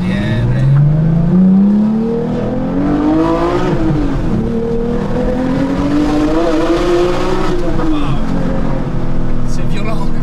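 Rear-engined Porsche 911 R accelerating hard, its engine note climbing steadily through the gears, loud and close. Voices talk briefly over it.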